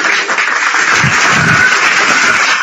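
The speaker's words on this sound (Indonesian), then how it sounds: "Tepuk tangan lagi." Loud, dense applause from a crowd at an Indonesian religious talk, a continuous close wash of clapping with no pauses.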